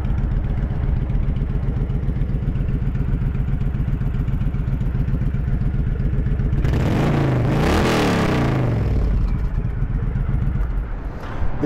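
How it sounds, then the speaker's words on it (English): A carbureted Honda VTX1300R motorcycle converted to a trike idles with a steady chug, then revs sharply up and back down smoothly before settling into its idle again. "It revs up all the way up, no hesitation, smooth running bike."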